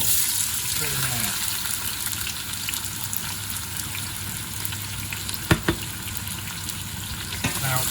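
Onions go into hot oil with cinnamon and bay leaves and fry with a continuous close sizzle, broken by a couple of sharp clicks.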